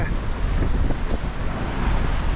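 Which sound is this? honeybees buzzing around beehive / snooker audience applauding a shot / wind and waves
wind and waves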